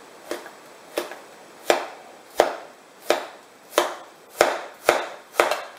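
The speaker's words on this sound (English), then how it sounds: "I'm going to just cut it in a size that's easy to use for stir fry" Knife held at an angle slicing meat into stir-fry pieces on a cutting board, nine sharp, evenly spaced chops close by with no talk.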